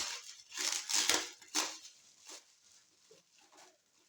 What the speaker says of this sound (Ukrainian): Тут уже скористаюсь ножицями.